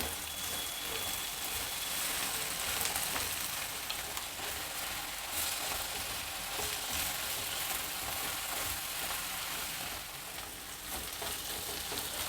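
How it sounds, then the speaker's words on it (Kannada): Fresh dill leaves fry in hot oil in a pan, giving a steady dense sizzle that stays loud and even throughout, with faint stirring scrapes and no voices. "ಸಬ್ಸಿಗೆ ಸೊಪ್ಪೆಲ್ಲ ಎಣ್ಣೆನಲ್ಲಿ ಫ್ರೈ ಆಗಿಬಿಟ್ಟೆ"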